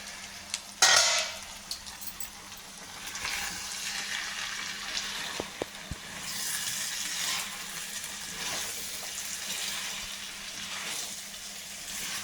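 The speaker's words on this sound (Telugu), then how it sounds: "ఒకసారి కలుపుకుందామండి." Broad beans and tomatoes frying in oil in a pan, a low steady sizzle with occasional stirring scrapes and a sharp clank near the start, quiet and close with no talk.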